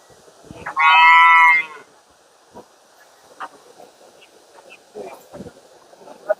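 A cow at a cattle market gives one loud, close moo lasting under a second, followed by quieter scattered knocks, rustles and faint distant calls against light wind noise.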